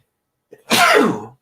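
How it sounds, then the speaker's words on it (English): One sharp human sneeze bursts out after a brief intake of breath, close and loud against an otherwise silent background. "I got to sneeze."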